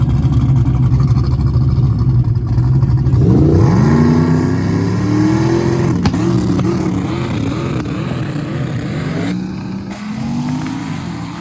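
A drag racing car performs a burnout on a gravelly surface, its engine roaring loud and sustained with rising revs and wavering pitch, heard close and without talk.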